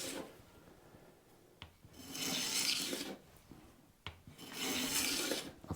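A very sharp hand plane, iron set for the lightest cut, shaving the face of a wooden fretboard for a thinline bass, two long smooth hissing strokes with a knock at the start of each, close up and alone.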